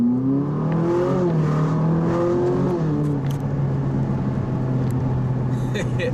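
A Ferrari 458 Italia engine on a road under light throttle, tonal whine and rumble rising and stepping through revs over the first few seconds, then settling into a steady drone with a voice speaking over it.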